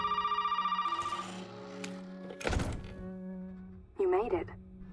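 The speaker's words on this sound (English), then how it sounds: "Phone call." A phone rings in Resident Evil 7, a repeating electronic tone that pulses steadily for a second or so before a heavy thunk, with a voice speaking near the end.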